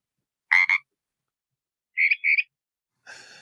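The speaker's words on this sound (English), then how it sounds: "The first sound was the ribbit call of the Pacific tree frog." A Pacific tree frog gives its two-part ribbit call, three short clear croaks separated by silence, the last a bit fainter and buzzier.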